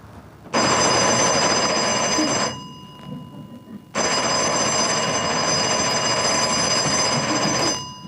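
An old-style telephone bell rings loudly in two long bursts, each a few seconds of continuous metallic trilling separated by a short pause, close and alone with no talking.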